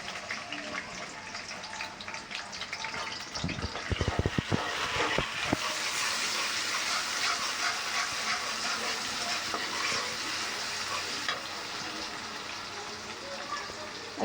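Chopped onion hits hot oil in a pan for a sweet pumpkin bhaji. A burst of sharp crackling gives way to a steady, close, loud sizzle that holds to the end.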